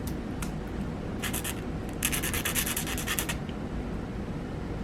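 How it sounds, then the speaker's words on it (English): A blade scores a line on thin plastic sheet while building a mini crankbait lure, giving dry scratchy strokes in short bursts and then a longer run of rapid scraping, close and moderately loud. "Alright, let's hit some chamfers on here. Just scoring a little bit of a line."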